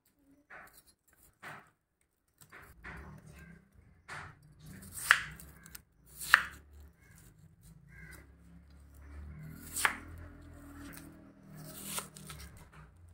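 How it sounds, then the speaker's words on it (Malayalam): A root vegetable is cut into small pieces with a knife, giving sharp sporadic cutting clicks and taps, a few louder strikes, over a quiet kitchen background. "ഇങ്ങനെ ചെറിയ ചെറിയ പീസുകളായിട്ട് നമുക്ക് മുറിച്ചെടുക്കാം."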